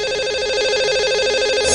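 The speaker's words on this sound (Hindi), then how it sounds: "तो लगाते हैं इन्हें कॉल।" An outgoing telephone call rings on a radio show's phone line, a steady, loud electronic ringing tone with repeating pulses that carries on throughout, alone without any talk.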